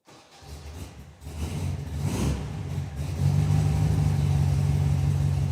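Restored Volkswagen Beetle engine starts and revs up, settling into a steady, loud mid-pitched drone as the car pulls away nearby; no talking.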